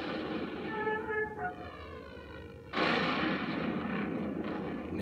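A loud explosion erupts as the Aperoid spider is destroyed in the Star Fox Assault video game, following tonal game effects and a rising whoosh, then holding as a sustained, roaring blast to the end.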